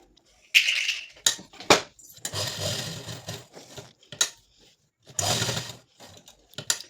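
A sewing machine runs in short bursts while stitching a katori blouse, with loud whirring runs broken by pauses and clicks of the mechanism, close up.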